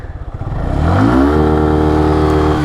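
A Suzuki Gixxer Monotone motorcycle engine idles with a chugging putter, then revs sharply to 10,000 rpm and holds a loud, high-pitched whine close to the microphone.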